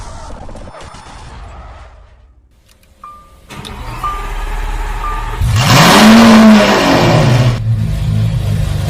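A car engine runs with unstable RPM, surging and dipping unevenly, rising to a louder revving swell midway before settling back to a rough uneven idle, close and without voices.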